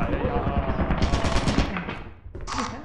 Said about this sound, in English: There's a turret, it's gonna shoot you!